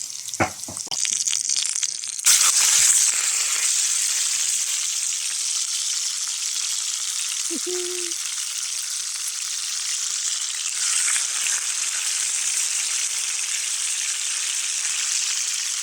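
Steak dropped into hot oil for deep frying outdoors, an initial splash and burst of crackle settling into a loud, steady, close sizzle of bubbling oil that holds throughout, with no talk.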